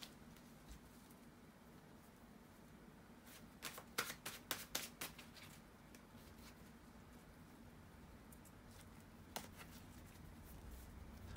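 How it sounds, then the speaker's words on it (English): A deck of tarot cards being shuffled by hand, a quick run of crisp riffling snaps in the middle and a single later snap over a faint quiet room background. "shuffle the tarot cards"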